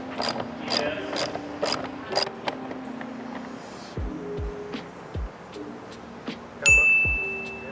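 Ratchet wrench clicking in quick bursts while a 10mm bolt is loosened from a Ford Mustang GT door, with metallic dings and clanks of the freed parts near the end.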